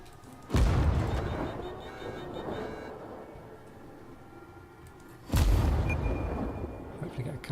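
Umikaze class destroyer guns firing on a cruiser in World of Warships, two heavy booming salvos a few seconds apart, each a loud deep blast trailing into a rumbling decay.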